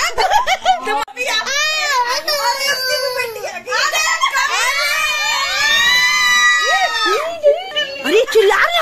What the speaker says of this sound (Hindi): बाहर शांत रहो, चिल्ला रहे।